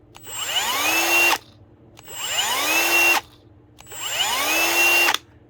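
A Milwaukee M18 Fuel cordless drill set to a low clutch setting spins up three times in a row, each burst with a gentle soft-start ramp and a rising whine, then stopping abruptly. The sound is close and loud, with short silent gaps between bursts.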